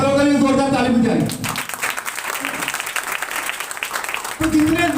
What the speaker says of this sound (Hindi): उन फलों के लिए जोरदार ताली बजाइए।